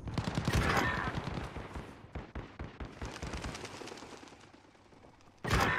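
Bursts of automatic gunfire aimed at an enemy UAV in a Call of Duty game, loud rattling volleys at the start, quieter scattered shots after, then another sudden loud burst at the end.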